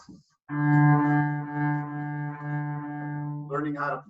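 Cellos and basses in a group class sustain a smooth, connected bowed tone in a gentle rhythm for several seconds, warm and low, close by, followed by a short burst of talking.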